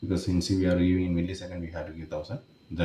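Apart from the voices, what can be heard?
No everyday noises stand out.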